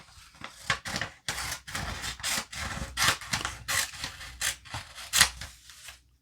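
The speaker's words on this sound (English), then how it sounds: "now, regular scissors" Scissors snip repeatedly in close, uneven succession, each cut a short crisp rasp with brief pauses between, no voices.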